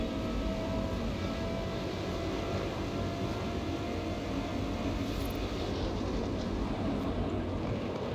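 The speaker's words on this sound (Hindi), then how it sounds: "क्या सीन है जेट के साथ रेसिंग करते हैं भाई साहब" In Forza Horizon 4, a jet aircraft races alongside a car, giving a constant, moderately loud droning roar that stays even for the whole stretch.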